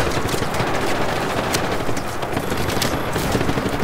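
Rapid, dense gunfire from the video game Just Cause 3 rattles on without pause, a loud, continuous fusillade of shots.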